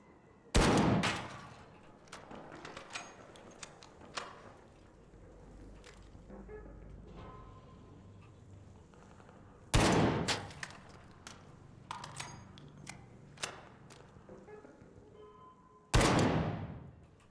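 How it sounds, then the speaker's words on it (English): Three heavy, loud gunshot blasts from the video game Arc Raiders, spaced several seconds apart, with quieter clicks, thuds and game sounds between them. "it's not me that's shooting"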